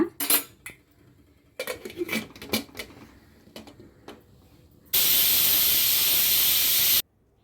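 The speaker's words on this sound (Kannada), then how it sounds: "ಇವಾಗ ಕುಕ್ಕರ್ ಮುಚ್ಚಿ 2 ವಿಸಿಲ್ ಕೂಗ್ಸೋಣ" A pressure cooker on a kitchen stove lets out a loud, steady jet of hissing steam for about two seconds, after scattered clinks of utensils and lid handling.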